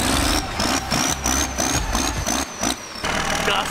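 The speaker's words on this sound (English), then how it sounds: "See my belt squealing. I keep hearing the squealing noise." A Cummins-swapped Mustang's engine belt squeals at a high steady pitch over the rumbling engine, the squeal holding for a few seconds before cutting out.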